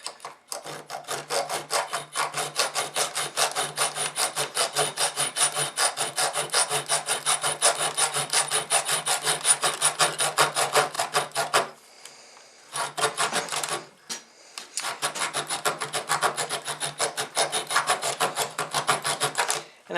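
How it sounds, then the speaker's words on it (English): Razor saw cutting through material clamped in an X-Acto miter box, a steady rapid back-and-forth rasping kept up for long stretches with two brief pauses, close and fairly quiet. "I basically marked it with a Sharpie where I wanted to cut, and then I stick it into a X-Acto miter box with a razor"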